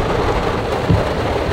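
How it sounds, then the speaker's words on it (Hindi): Heavy monsoon rain pours steadily in Mumbai, a dense, constant hiss with a brief low rumble partway through and no voices. "इस बार मुंबई जम के बरस रहा है।"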